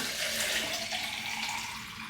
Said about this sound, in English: I have 1 water bottle down, so we're gonna fill this back up.